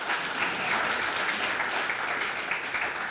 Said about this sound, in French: On peut les remercier et les applaudir parce qu'ils nous aident aussi.